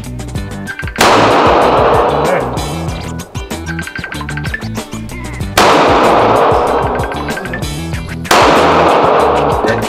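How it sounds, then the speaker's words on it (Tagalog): Glock 45 MOS pistol firing at a range: three sharp, loud gunshots spaced a few seconds apart, each followed by a long ringing reverberant decay, with no talking. "Okay, firing muna. Load and make ready. Okay. Firing."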